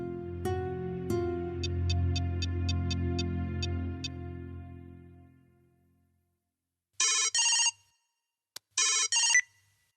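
A mobile phone ringtone plays in a film scene: a run of bright, evenly spaced chiming tones over a fading musical bed, then silence, then a few short bursts of electronic ringing, with no speech.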